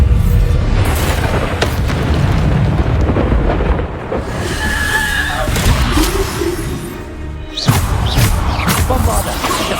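Bombarda spell blasts in the game Hogwarts Legacy: repeated heavy booming explosions with rumbling, crackling tails over continuous loud combat noise, dipping briefly midway before another burst hits.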